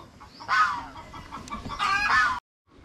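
Close, loud chicken clucking in two bursts, squawky and agitated, followed by a brief silence.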